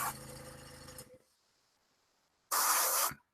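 Two bursts of spray paint being sprayed onto a model in white: a hissing spray fades out after about a second, then after a quiet pause a second sharp, loud hiss returns briefly before cutting off.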